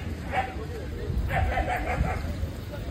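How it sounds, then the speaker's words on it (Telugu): Dogs, mostly Labradors along with a long-coat German Shepherd, give a few short barks and yips amid crowd babble at an outdoor dog park on Necklace Road, moderately distant and partly masked by voices. "ఇంకా ఇక్కడ చాలా కుక్కలు వచ్చినాయి"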